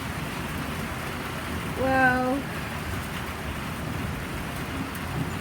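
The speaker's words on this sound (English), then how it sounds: "the rain is bad. And I think it's dying down a bit. There's lots of thunder." Rain pours steadily in Parkes during a thunderstorm, a constant close wash of noise with a brief voice rising over it.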